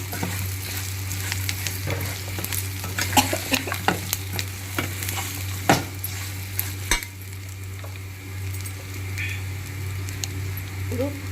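Colocasia pieces being stirred and fried in a pan, a steady sizzle with repeated clicks and scrapes of a spoon against the pan, close by, with a low steady hum underneath.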